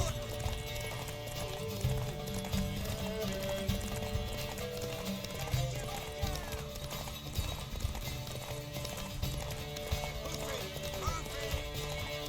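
Horse hooves clip-clop steadily in Witcher 3, with an occasional neigh, all mixed under a loud continuous game soundtrack and low ambient rumble.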